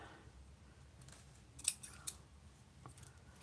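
Scissors cut paper for a collage with a few quiet, crisp snips clustered together, close but faint against a soft background hush.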